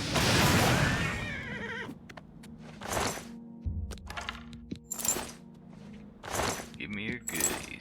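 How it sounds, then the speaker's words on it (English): The horse Shadowmere in the video game Oblivion Remastered gives a loud, long whinny, followed by sharp game effects, clinks and short bursts of sound. "That's probably the best horse in the game right there."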